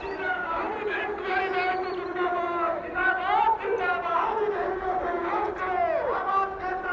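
Large crowd at a politician's rally in a Lucknow park, a steady murmur of many voices and chatter with a louder voice talking over it throughout.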